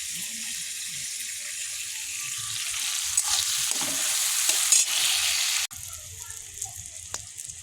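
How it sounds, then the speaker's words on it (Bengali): Yardlong beans fry in oil, giving a steady close sizzle that rises a little, then drops abruptly as the heat or pan changes, leaving a quieter crackle with soft clatter. "বরবটিগুলো ভাজা হয়ে গেছে"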